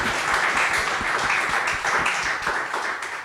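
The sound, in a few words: audience applause at live podcast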